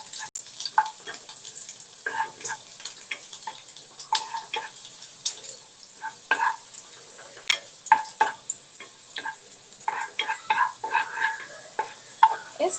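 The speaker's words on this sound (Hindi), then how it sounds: "लहसुन कटा हुआ है छोटे छोटे पीस में उसमें, और ये एक स्पून में उसमें डाल रही हूँ। इसको हल्के से हमें फ्राई करना है।" Small pieces of chopped garlic fry lightly in oil, a faint, sparse crackle of soft ticks and pops scattered unevenly over a quiet background, with no talking.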